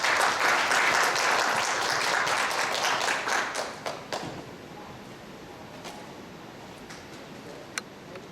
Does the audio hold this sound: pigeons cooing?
no